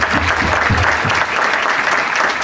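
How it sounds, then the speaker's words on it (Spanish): Loud, dense applause from a crowd at a Falla presentation event, sustained clapping throughout with no pauses. "un fuerte aplauso."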